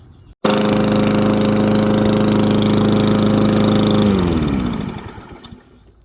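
A repaired Toro lawn mower engine catches abruptly and runs at a loud, steady pitch for several seconds, then winds down and stops.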